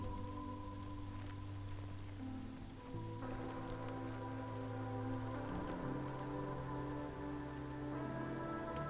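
Rain patters steadily in the rainpunk city-builder Against The Storm, a soft continuous shower mixed with low droning game music tones that shift midway, with no voices.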